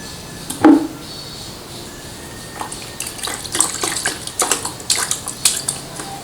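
Water runs and splashes in bursts as a dirty, mud-caked cartridge from a cheap household water filter is rinsed, with intermittent clattering handling noises close by and no talk.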